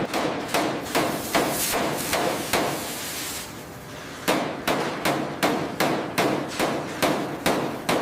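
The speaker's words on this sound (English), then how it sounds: "is carefully hammered into shape over a precise hardwood mold" Hammer blows shape a 1937 Bugatti 57 SC Atlantic body panel over a hardwood mold, landing in steady ringing strikes about twice a second, with a short pause midway before the rhythm resumes, close and loud.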